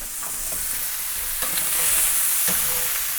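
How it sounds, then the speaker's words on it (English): Spicy chorizo sausage fries and sizzles in a pan, with a steady hiss throughout and a few scraping stirs of a utensil against the pan. "Time to give it a stir."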